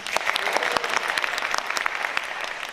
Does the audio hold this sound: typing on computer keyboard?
no